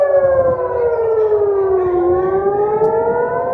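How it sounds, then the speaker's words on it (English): A civil defense air raid siren wails in Israel, a loud steady tone that slowly dips and then rises again, sounding alone without voices. "sirens rang out there as it declared a state of emergency"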